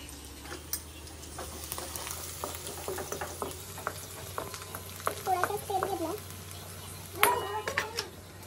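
Garlic frying in oil for veg crispy, a soft steady sizzle with scattered clinks and scrapes of a spoon on the pan, close by, louder bursts of crackling near the end.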